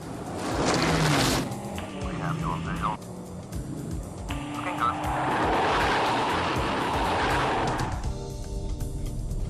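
Saab 900 Turbo driving hard with tyres squealing and skidding, engine noise loud and close, with a brief lull before another long squeal; a voice may talk faintly underneath.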